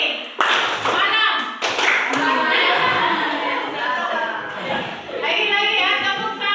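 Hand claps from an Indonesian classroom clapping game in a science lesson ring out in short bursts, mixed with children's chanting voices and a teacher talking over the rhythm.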